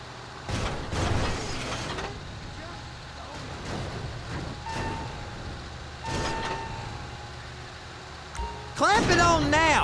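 A container handler works the docks in GTA 5, its heavy machinery clanking and whirring in bursts with a ratcheting, mechanical grind, while voices talk over it.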